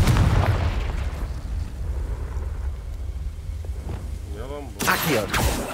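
Confringo, the explosive spell in Hogwarts Legacy, goes off as loud booming blasts: a heavy burst at the start, a rumbling tail, then another sharp, crackling explosion near the end, with faint voice-like sounds just before it.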